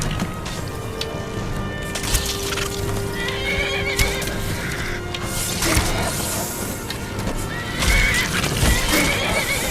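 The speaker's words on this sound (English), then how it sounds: "Get 'em, horses!" Horses in the video game Skyrim neigh and whinny loudly, with galloping hoof clip-clops and combat clatter mixed in. Several whinnies come in bursts across the clip over a busy game soundscape.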